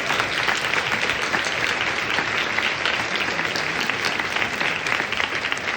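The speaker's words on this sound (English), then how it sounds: "round of applause for that" Dense, sustained applause from a large conference audience, loud and steady throughout with no letup, filling the room without any voices on top.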